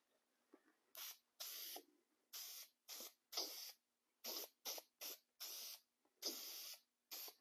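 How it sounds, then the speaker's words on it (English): An aerosol spray can hisses in about a dozen short bursts of varying length, close and fairly loud, with brief quiet gaps between them in a workshop while making tool drawer organizers. "I'm just going to quickly spray this off camera here."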